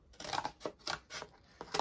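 Several crisp scissor snips into cardboard, uneven in rhythm, close and fairly quiet.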